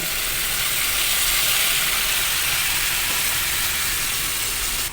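Soy sauce sizzling in a hot pan with pork for adobo, a loud, continuous broadband hiss and crackle that holds steady for the whole stretch before cutting off at the end.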